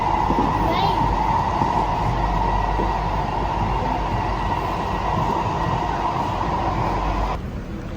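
Inside a train riding through Singapore, a steady close rumble and rolling hum of the carriage runs throughout, easing slightly near the end, with a voice briefly audible over it.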